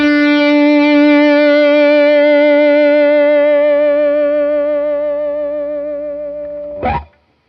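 An electric guitar through a distortion pedal holds one chewy, mid-heavy chord that rings on with long sustain, fading slowly before a sharp scrape cuts it off at the end.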